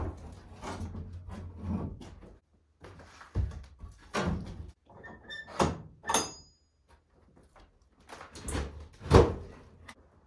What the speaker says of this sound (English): let's go ahead and bust these double doors open and shed a little light on the subject